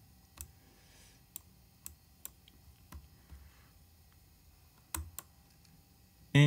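Mouse clicks on an old computer running a roughly 20-year-old web browser: a few sharp, quiet clicks spaced irregularly over a faint hum, ending in a louder, longer burst of sound.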